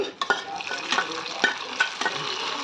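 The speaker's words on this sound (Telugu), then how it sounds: "తాలింపు వేసుకుందామండి" Spices tempering in hot oil for a Malabar spinach (bachali) dal give a steady, close sizzle, broken by sharp stirring clinks and scrapes against the pan.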